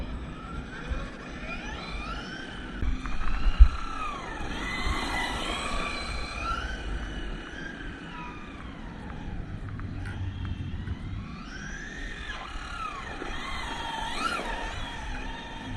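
A Maverick Quantum R Flux RC car runs with its electric motor whining through rising and falling sweeps as it accelerates and slows, sometimes nearer, sometimes farther, heard alone with no talk.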